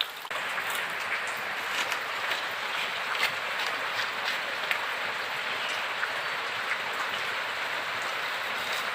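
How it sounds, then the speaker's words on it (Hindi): Steady rain falling during a wet day in Assam, a dense continuous patter and hiss with occasional sharper drops, even and close. "पूरा दिन बारिश बारिश बारिश हो रहा है, रुकने का नाम ही नहीं ले रहा है।"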